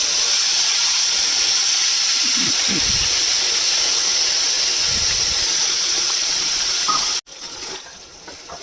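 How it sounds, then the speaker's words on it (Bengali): Onion, ginger, garlic and tomato paste sizzles loudly and steadily in hot oil in a kadai while cooking a pea and mushroom curry, a dense hiss that drops sharply near the end, with no speech. "এই যে পেঁয়াজ আদা রসুন টমেটো এটা যে পেস্ট করে নিয়েছিলাম সেটা দিয়ে দিলাম"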